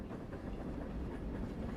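A train rolls past on railway tracks through a rail yard, a faint, steady rumble with a dense wash of wheel and wagon noise and light clickety-clack over a brief stretch, no voices.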